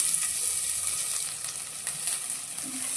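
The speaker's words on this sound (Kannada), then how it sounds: "ಇವಾಗ ಇದಕ್ಕೆ ನಾನು ಈರುಳ್ಳಿ ಸೇರಿಸ್ಕೊಳ್ತಿದ್ದೇನೆ." Onions sizzle and fry steadily in hot oil with cumin in a pan, a close, continuous crackling hiss with faint stirring, as the base for matar paneer.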